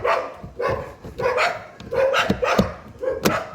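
A dog barks repeatedly in a steady, fairly close series of loud barks near a 2005 Toyota Hilux 3.0 D4D 4x4 being worked on, with no talk over it.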